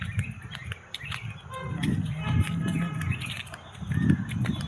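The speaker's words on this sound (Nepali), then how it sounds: "सो तपाईँहरूले चराको आवाज कस्तो मजा सुन्दै होला है" Birds chirp and call outdoors in a green, fresh-air setting, with bright, scattered tweets over a steady background of low rumbling and movement.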